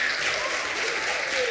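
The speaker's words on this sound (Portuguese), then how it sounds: "um aplauso para esta parceria que nos junta a todos" Audience applause at a family arts event for children, a steady dense wash of clapping filling the whole moment at close range with no pause.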